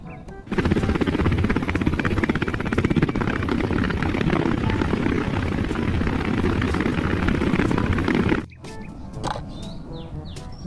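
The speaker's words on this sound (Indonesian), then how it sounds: "helikopter." A loud, steady whirring drone from a toy helicopter runs nearly continuously for about eight seconds, then cuts off abruptly, leaving quieter background noise.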